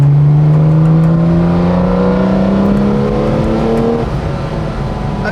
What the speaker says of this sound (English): one of my favorite things is actually 4th gear, because you just get this deep thrum